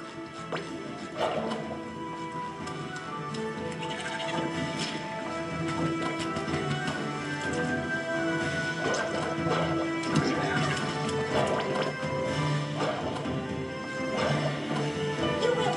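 A horse gallops in SpongeBob: The Cosmic Shake, its rhythmic clip-clop hoofbeats mixed with crashes, game music and effects throughout, with a player occasionally talking over the top.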